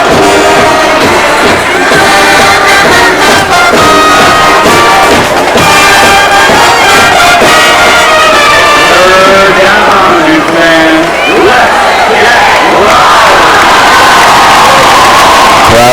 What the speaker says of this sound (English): Crowd is showing the energy on 3rd and 6.